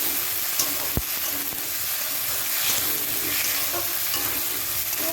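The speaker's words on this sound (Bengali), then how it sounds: "একটু টমেটো বাটা দিয়ে দিয়েছি। এরকম এগুলোকে ভেজে নিতে হবে।" Constant hissing sizzle of tomato paste and spices frying in a pan for chicken curry, with occasional stirring knocks and a sharp tap near the start, close up.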